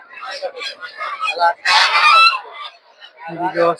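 Chinese geese honking in short nasal bursts amid a busy rural village market, with people's voices close by and a loud rustling burst partway through.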